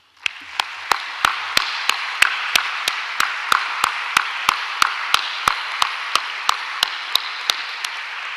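An audience at a formal anniversary ceremony claps in unison, sharp single claps landing at a steady, even beat, about three per second, sustained for several seconds over a low hum in a large hall.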